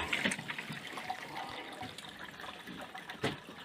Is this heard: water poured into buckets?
yes